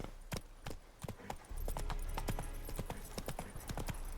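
Horse hooves clip-clop at a quick, steady trot after the rider spurs the animal on; the hoofbeats are close and crisp, with a slightly louder, busier patch partway through.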